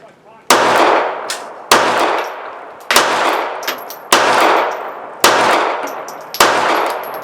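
Six sharp, loud Ruger LCP .380 ACP pistol shots fired at a steady, unhurried pace outdoors, each crack followed by a ringing decay, with faint metallic pings between shots.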